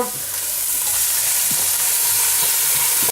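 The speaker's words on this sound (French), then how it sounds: "maintenant, on va verser la crème fraîche" Crème fraîche poured over lardons frying in a pan, a steady loud sizzle with faint stirring scrapes throughout.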